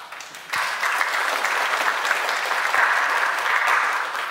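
Training participants break into sustained applause after a speech, a dense burst of many hands clapping that starts suddenly and holds steady at close range.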